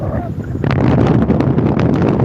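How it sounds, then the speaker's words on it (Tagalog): Strong typhoon wind in Caramoan, Camarines Sur, Bicol, roaring and buffeting loudly and steadily against the microphone throughout, with a brief quieter moment at the start. "Sobrang lakas ng ano dito, hangin."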